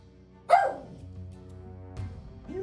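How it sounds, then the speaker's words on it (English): Single loud dog bark close by, a sharp burst followed by a quieter second yelp about a second and a half later, over a low steady background hum. "You hear this dog?"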